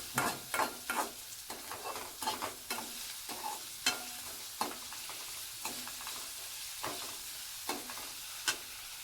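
Manchow soup ingredients stir-fried in oil, a soft sizzle beneath repeated scraping taps of a spoon against the pan at an uneven, steady rhythm, fairly quiet and close.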